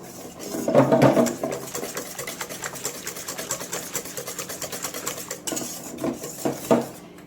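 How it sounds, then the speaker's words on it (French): Whisk beating flour into chocolate cake batter in a bowl, a steady rapid scraping and tapping rhythm, close and moderately loud, with no talk. "Tu rajoutes une cuillère de farine. Tu fouettes."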